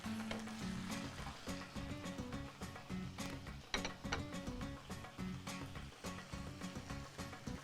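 Chicken pieces pan-frying in a small amount of oil, a steady sizzle with scattered clicks and clatters running continuously throughout.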